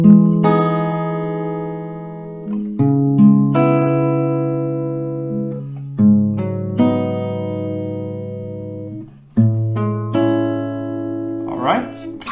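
An acoustic guitar plays the melody of a song as a slow run of clear, sustained single notes, close and alone with no talking.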